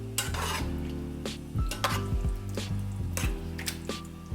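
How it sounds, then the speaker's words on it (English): Meat sauce stirred in a pan while cooking lasagna, a close utensil scraping and clinking against the pan in repeated strokes over a low background hum, with no talking. "I'm gonna just stir that through for a second"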